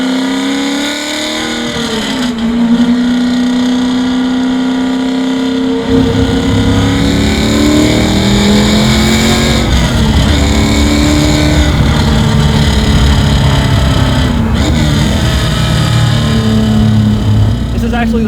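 A 1968 Camaro muscle car with a new engine pulls hard from inside the cabin, its loud engine note rising and falling steadily through short-shifted gears, with people talking over it throughout.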